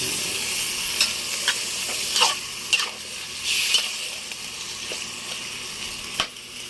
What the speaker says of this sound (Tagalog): So halu-haluin lang natin yan